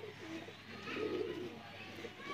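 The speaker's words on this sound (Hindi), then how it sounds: "काले मुंह वाले कबूतर, प्योरिटी का कबूतर है माशाअल्लाह" Soft, low cooing from a Sialkoti black-faced pigeon repeats in gentle rounded phrases close by, over a faint background hum.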